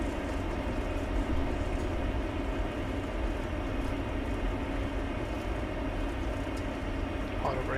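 An Airbus A220-300 in a flight simulator game applies reverse thrust after landing, producing a steady, dense engine roar that holds at constant loudness throughout without letting up.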